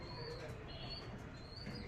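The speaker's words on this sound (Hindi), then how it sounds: "हर जगह कबूतर।" Pigeons coo softly in an outdoor spot where they have gathered everywhere, a few low calls under faint background noise.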